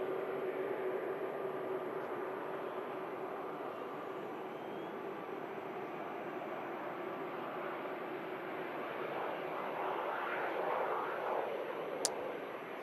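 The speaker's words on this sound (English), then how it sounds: "Phenom 300 aircraft coming in from London Luton" An Embraer Phenom 300 business jet arrives at Manchester Airport, its engine noise a steady, distant broadband roar that swells slightly toward the end, with no voices.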